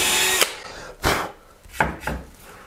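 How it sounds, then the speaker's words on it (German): A metal drill bit bores a hole in wood, a brief whirring burst followed by three or four short separate grinding spurts with quiet gaps between. "Nun haben wir jetzt hier ein wunderschönes Loch, hier mit unserem Metallbohrer meine ich, gebohrt."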